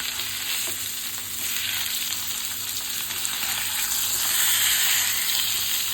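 Fish pieces, khadichi macchi coated in masala, fry in a pan over medium heat with a steady close hiss and sizzle that swells slightly toward the end, no voices.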